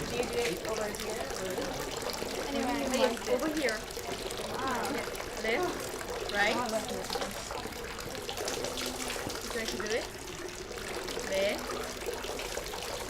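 Water trickles and splashes steadily at the washing place of the Meiji Shrine in Tokyo, a soft continuous running sound heard beneath a person talking.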